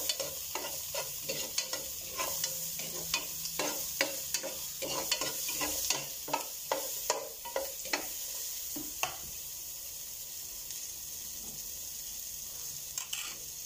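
Garlic and onion sauté in a pan for pork sinigang, a constant sizzle broken by rapid, repeated scraping and clanking of a spatula that grows sparser in the last few seconds.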